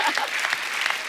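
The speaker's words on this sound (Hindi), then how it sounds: "तालियां, तालियां।" Studio audience applauding on a television comedy show, a dense burst of clapping that runs loud and steady for about a second.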